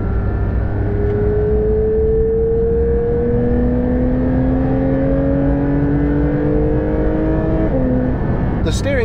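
A Porsche 992 GT3 sports car being driven, its engine a steady drone with rising pitch as it pulls through the revs, then a brief shift near the end; continuous and fairly loud from inside the car.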